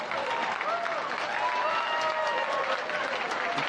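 Audience applause at an all-candidates forum for a local election in Uxbridge, a steady, dense clapping from a roomful of people that holds at an even level throughout, with some murmuring mixed in.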